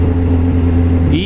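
Suzuki GSX750F motorcycle with uncleaned carburetors, its engine running loud and close in a steady, droning idle that lifts slightly in pitch at the end.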